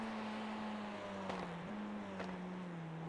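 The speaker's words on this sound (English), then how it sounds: "All the overrun there, the pops and bangs, one of the greatest things about these cars on iRacing." TCR touring race cars in the iRacing sim drop through the gears at Donington Park, a steady engine drone falling in pitch with two sharp overrun pops or bangs, quiet and alone with no talk.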